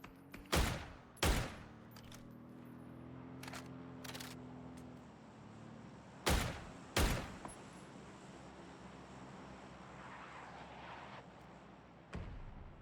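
Mortar explosions in a battle royale video game: a handful of sharp, loud blasts in pairs, then a lone one near the end, each ringing out over a low, steady game ambience.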